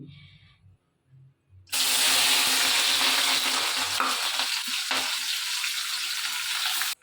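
Vegetables, potatoes and peas with onion, garlic and green chillies, hitting a hot pan, a quiet start that bursts into loud, continuous close-up frying hiss that holds to the end.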